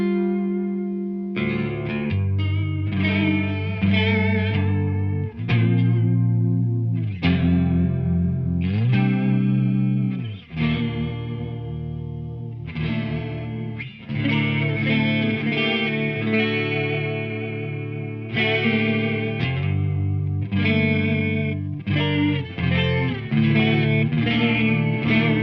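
An electric guitar plays chords and melodic lines through a Walrus Audio Julianna chorus pedal, giving a shimmering, swirling tone with a slight drive. The sound is close and sustained, with no talking.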